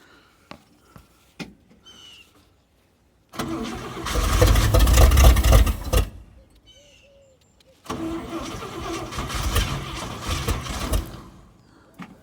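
After a few clicks, an International Harvester truck engine cranks and fires, runs roughly for a couple of seconds and dies, then starts again and runs briefly.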